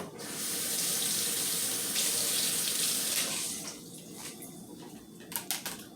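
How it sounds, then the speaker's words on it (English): Kitchen tap water runs steadily into a sink while a cutting board is rinsed, a close, full gush that eases after a few seconds, followed by a few light knocks and splashes. "So let me wash my cutting board off."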